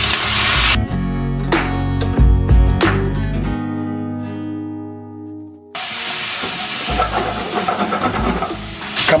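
Shrimp sear in a hot pan as Chinese sauce goes in, giving a loud sizzling hiss that surges, drops away into a quieter tonal stretch, then bursts back to a strong crackling fry.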